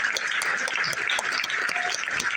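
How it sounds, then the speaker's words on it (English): An audience applauds steadily and densely at a gathering, with a loud, continuous wash of clapping throughout and no talk over it. "Give him a round of applause."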